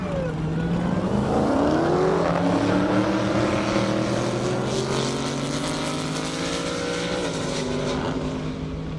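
A fast Camaro drag racing on an airport strip at a half-mile event, its engine roaring loud and continuous as it accelerates hard through rising gear pulls, with another car's engine mixed in.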